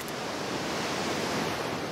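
Sea waves washing onto a beach shore: a continuous broad rushing wash of surf, steady and fairly loud throughout with no distinct breaks and no voices.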